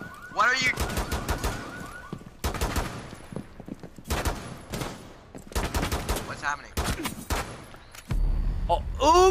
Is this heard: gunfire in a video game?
yes